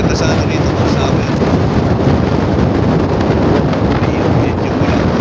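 Strong wind in New Zealand buffets the microphone in a constant heavy roar, loud and rumbling throughout with no break.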